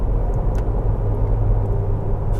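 Jeep Wrangler TJ with 4.88 gears and 32-inch tires drives steadily, its engine a constant close low rumble with road noise as the vehicle slows.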